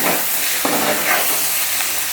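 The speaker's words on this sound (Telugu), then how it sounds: "కొద్దిగా కారం వేసిన కదా, నూనెలో మగ్గినట్టు కావాలి" Chili powder frying in hot oil for a prawn and brinjal tamarind curry gives a steady, close sizzle with a soft stirring scrape midway, continuous and alone without talk.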